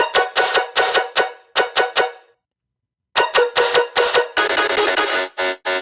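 A bright, buzzy synth lead imitating a saxophone plays short punchy notes in a quick rhythm, stops for about a second, then returns with a denser, noisier layer.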